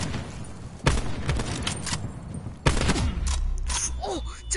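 Gunfire in a 1v1 shooter video game match, sniper rifles then regular guns: a few sharp separate shots with decay at moderate loudness, over steady game background noise.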